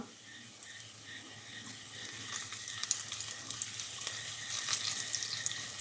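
Onions with a couple of curry leaves frying in a pan for a potato masala curry tempering, a steady bright sizzle and crackle that builds slightly louder over the few seconds, with no talking.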